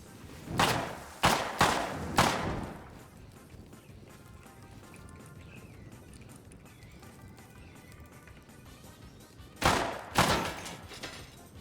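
Several sharp bursts of gunfire at a car in the video game Rust ring out, a cluster of three near the start and two more near the end, with quieter ambient noise between.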